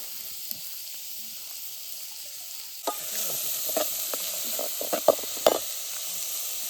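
Chopped onion hits hot oil in a pan for prawn masala, cooked outdoors by a river; after a quiet stretch a steady sizzle rises, broken by stirring scrapes and a few sharp pops, with no talk.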